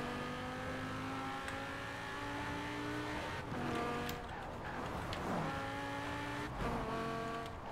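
An Audi RS7 Sportback's engine in the racing game Forza Horizon 4 revs up through gears, with rising whines broken by shift drops and a brief tire screech, loud and continuous.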